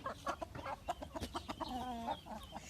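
Turkeys at a backyard poultry sale, close gobbling and clucking calls in quick uneven bursts, with one longer warbling call near the end.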